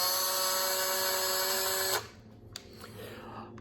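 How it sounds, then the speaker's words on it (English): A power tool runs steadily at high speed while smoothing the tread of model racing slick tires, a wheel mounted on a 5/8 socket; the whine cuts off after about two seconds, leaving faint handling noises. "Part of that means getting the tires smoothed up so that these racing slicks actually look like racing slicks. And part of that means power tools."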